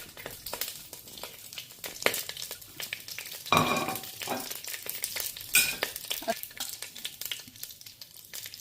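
Whole spices, star anise, tailed pepper and cinnamon, crackle in hot sesame oil in a pot for prawn biryani. A close, steady sizzle is broken by repeated stirring scrapes and a few louder spoon strokes.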